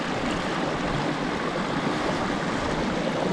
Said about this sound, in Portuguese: Olha uma mina d'água!